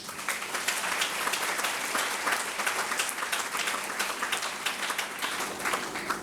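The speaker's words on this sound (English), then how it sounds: "Let's give him a round of applause." Audience applause at a leadership conference opening ceremony, a dense, steady wash of many hands clapping for several seconds, even in loudness with no talk over it.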